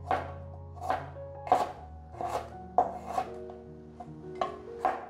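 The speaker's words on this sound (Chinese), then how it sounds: "准备160克的姜，先取大约10克下来，切成姜末" Knife slicing ginger on a cutting board, about seven crisp evenly spaced chops, close and clear, no voices.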